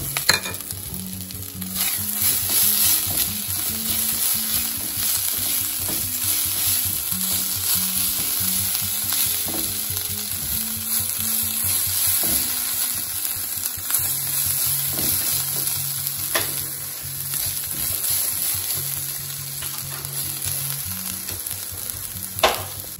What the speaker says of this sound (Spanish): Que se sofría un poquito.